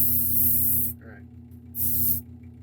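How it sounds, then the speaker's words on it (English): An airbrush sprays paint onto a large model piece in a warm spray room, giving two steady hissing bursts over a constant low hum. "So now I'm just going to open up my airbrush a little bit more because it's such a big piece."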